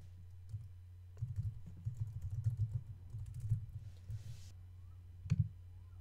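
Irregular bursts of keystrokes on a computer keyboard while writing Sass code, clattering in quick runs with short pauses and one firmer tap near the end, close and moderately quiet with no talking.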